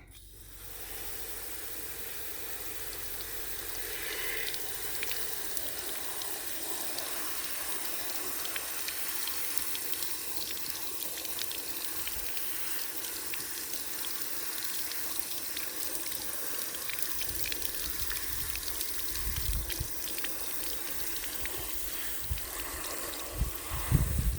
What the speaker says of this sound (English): So now, rinse it from the inside out.